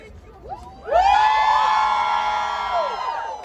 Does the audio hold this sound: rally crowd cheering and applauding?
yes